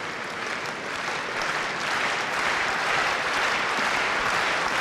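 A tennis crowd at the 1990 Masters semifinal between Agassi and Becker applauds and cheers for Becker in a sustained, dense wash of clapping that swells slightly and holds steady throughout.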